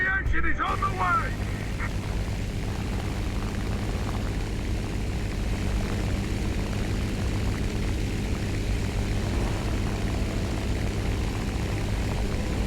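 A propeller plane engine in the War Thunder video game drones steadily and loudly, a constant throbbing hum that fills the whole stretch, with a brief clatter at the very start and no talking.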